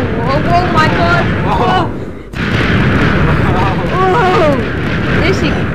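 A Minecraft explosion sounds as a loud, continuous rumbling blast that dips briefly midway and then surges again, with excited voices shouting over it throughout.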